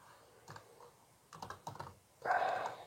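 A name is typed on a computer keyboard: a few soft, scattered keystrokes, then a short cluster of clicks and a louder burst of typing at the end, in a quiet room.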